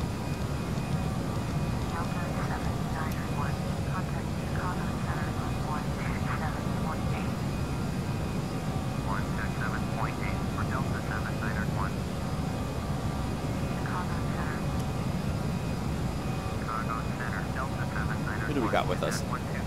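An Airbus A319 jet in Flight Simulator X gives a constant, even engine drone throughout, with faint intermittent clicks and tones over it.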